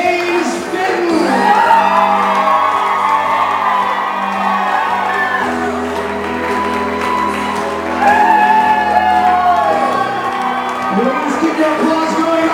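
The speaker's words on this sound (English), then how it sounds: "Please keep your applause going." Wedding guests at Goat Island loudly applaud, cheer and whoop for the newlyweds in a sustained roar of clapping and shouts, with a voice speaking over the crowd.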